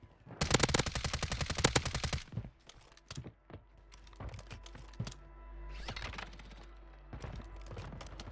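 A BAS-B rifle fires in Warzone 3, first a long rapid automatic burst, then scattered shots and clicks, then two more short bursts, all fairly close against quiet game ambience.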